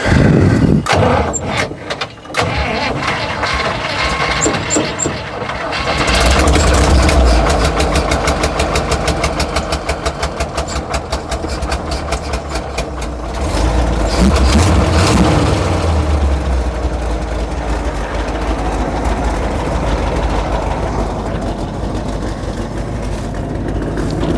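Old abandoned truck with an electric fuel pump cranking with loud sputtering bangs before the engine catches, then running roughly and loudly, revving and surging up and down.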